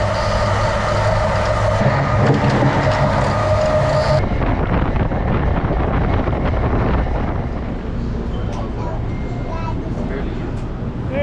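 Rumbling commuter train ride heading into Secaucus, steady wheel and track noise with wind buffeting the microphone, a harsher grinding texture in the first four seconds, then a smoother continuous roar.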